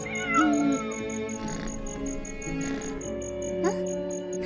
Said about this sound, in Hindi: साशा की नजर एक छोड़ी गई बिल्ली पर पड़ी